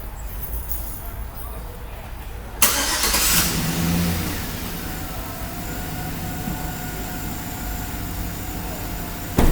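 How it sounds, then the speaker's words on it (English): A truck engine idles in neutral with wheel chocks in place. A steady low rumble runs throughout and surges briefly midway as the engine is started or revved, then settles back to a constant hum. Someone speaks over it. "I have to have the truck in neutral and have it on."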